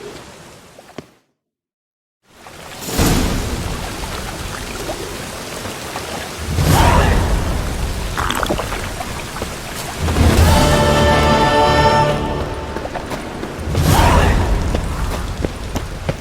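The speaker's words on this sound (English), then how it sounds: "And it's raining again." Rain pours steadily while thunder rolls in several loud, deep booms spaced a few seconds apart, in the city of Novigrad in the video game The Witcher 3, with a short silent gap near the start.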